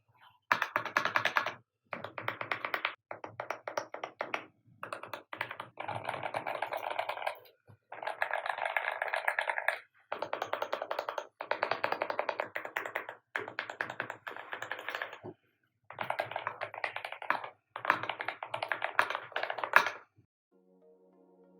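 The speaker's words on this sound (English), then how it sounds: "let's have a sound test on this keyboard first and see how this actually sounds" Rapid clacky keystrokes on a PWNAGE ZENBLADE 65 mechanical keyboard in bursts of fast typing separated by short pauses, close and crisp, with no talking.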